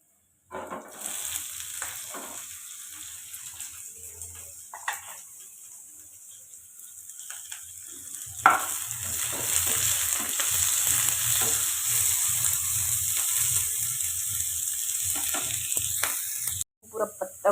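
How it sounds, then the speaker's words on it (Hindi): Onions frying in a pan after chillies, with a steady sizzle building and holding close by, broken by a few sharp stirring scrapes, before the sound cuts off abruptly. "फिर बारी आई प्याज के, तो चलो प्याज भी डाल देते हैं।"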